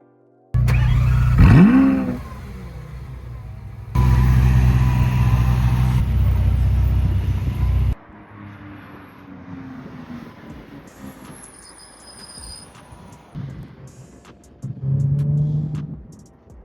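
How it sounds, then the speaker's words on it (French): A dream car on a race circuit, its engine revving hard in loud bursts with a gear-change sweep, then a quieter stretch before another surge of engine roar. "maintenant, il est temps de monter en voiture et d'aller voir ce que ça donne"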